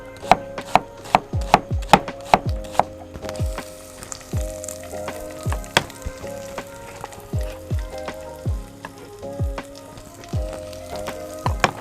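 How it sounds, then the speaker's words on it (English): A knife slicing an onion thinly on a cutting board, with sharp, evenly spaced chopping thuds close up, quicker at first and then steadier, over a faint background sizzle of frying, with no speech. "Slice your onion thinly."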